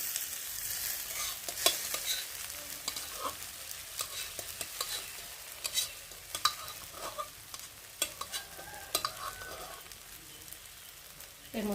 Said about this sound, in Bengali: তার আগে একটু নেড়ে নিই, নাহলে তলায় লেগে যাচ্ছে ডালটা